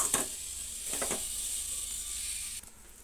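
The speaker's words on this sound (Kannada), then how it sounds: "ನಾವು ಕೊಬ್ಬರಿನ ಒಂದು ಬಾಣಲಿನಲ್ಲಿ ಹಾಕ್ಕೊಂಡು ಸ್ವಲ್ಪ ಹಾಗೆ ಫ್ರೈ ಮಾಡ್ಕೊಳ್ಳೋಣ." Grated coconut toasting in a pan gives a faint, steady hiss with a few light scraping clicks from stirring, then grows quieter near the end.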